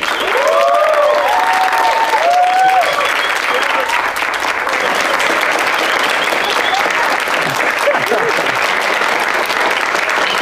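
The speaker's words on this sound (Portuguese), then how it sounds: "Recebam com muitas palmas o Imagem Mito" An audience at a live talk show greets a guest, a voice actor, with loud sustained applause and crowd noise. A few whistles or cheers rise early on, and voices are heard underneath.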